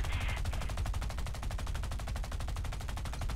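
Rapid 20 mm autocannon bursts hammer a tank turret in War Thunder's ground forces battles, a dense rhythmic stream of loud, close shots running without pause for the whole span, with no talking.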